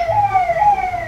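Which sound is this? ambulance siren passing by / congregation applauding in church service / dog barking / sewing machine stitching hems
ambulance siren passing by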